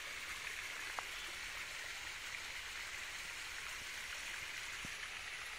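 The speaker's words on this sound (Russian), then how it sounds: "тут еще маленький родничок" A small spring trickles into a stream with a soft, faint, steady hiss of running water and no voices.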